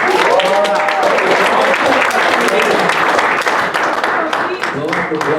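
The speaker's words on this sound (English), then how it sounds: "everybody give Daquan Howard a round of applause" An open mic audience gives a round of applause for a performer, with rapid overlapping claps running continuously while a voice speaks over the clapping.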